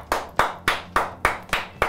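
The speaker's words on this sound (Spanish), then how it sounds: "todos me están aplaudiendo aquí atrás" Studio crew applauding behind a sports talk show set: seven close, evenly spaced claps at a slow, steady rhythm with no other sound.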